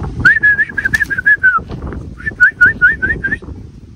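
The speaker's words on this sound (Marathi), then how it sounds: "आता त्यांना खायला टाकू कबूतरले" Pigeons being fed grams make soft rhythmic cooing and whistly calls in two short runs, close and clear over a low murmur of background noise, no speech.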